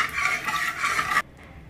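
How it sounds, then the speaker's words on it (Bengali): Potatoes frying in sunflower oil seasoned with turmeric and salt give a close, steady, dense sizzle that holds evenly for just over a second, then cuts off abruptly into near silence. "আলুগুলো ভেজে নেব এইভাবে।"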